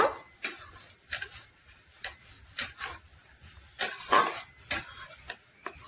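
Semolina and water are mixed in a bowl for dough, giving a steady series of light clinks and scrapes as a utensil strikes the bowl. The sound is fairly quiet and close.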